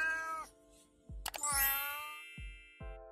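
A kitten meows repeatedly in clear, close, rising cries, with a few small metallic clinks in between, with kitten kibble nearby.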